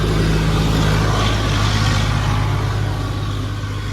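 A Swaraj 855 Five Star 4WD tractor with a damaged silencer works in mud, its engine giving a loud, steady low rumble and drone that holds throughout without speech.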